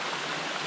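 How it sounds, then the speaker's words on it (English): Waterfalls and pools of water spill beside a granite slab trail on the climb toward Passaconaway's summit, giving a steady, loud, close rush of flowing water with no break and no voices. "We've been walking up the slab right next to waterfalls and pools of water."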